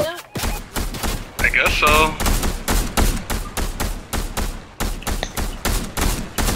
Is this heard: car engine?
no